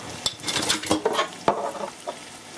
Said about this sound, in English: You can give them a little bit of stir so they don't stick to the bottom